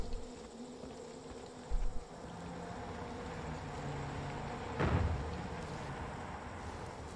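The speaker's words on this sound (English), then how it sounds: "I hear rotting flesh here. I hear flies buzzing around." Flies buzzing around rotting flesh in Far Cry 5, a steady close insect drone running throughout, with a couple of brief louder bumps and rustles, no talking.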